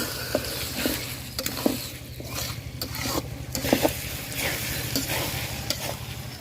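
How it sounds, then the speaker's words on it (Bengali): Spice paste for a winter duck curry frying and being stirred in a pan at an outdoor cooking spot, a steady sizzle broken by repeated scraping strokes of a spatula, close and fairly loud throughout, with no talking. "মশলাটা আমি সুন্দর করে কষায় নিই ভাজা ভাজা করে নিই"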